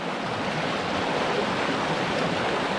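River water in the Pretty River Valley rushing steadily, a continuous dense hiss of flowing current with no breaks and no voices, mixed with possible wind.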